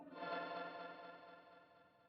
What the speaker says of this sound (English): You can definitely hear that shimmer.